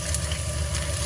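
Finely chopped onions and garlic sizzling in very hot oil in a pan for calamari à la provençale, a loud, dense, continuous crackle heard up close without talk.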